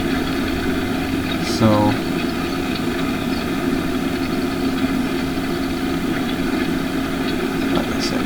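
A tractor engine idling nearby, a steady droning rumble with a constant mechanical hum throughout, a brief squeak near the start, and someone speaking briefly over it.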